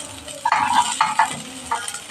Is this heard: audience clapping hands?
no